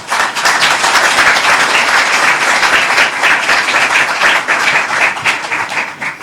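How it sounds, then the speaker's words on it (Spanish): A conference audience gives sustained applause, a dense, even roar of many hands clapping that fills the room at steady strength from start to finish. "Muchas gracias y un fuerte aplauso,"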